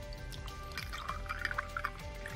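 A cocktail is strained into a holiday glass, liquid trickling and dripping steadily into the glass close by, with faint clinks under the pouring.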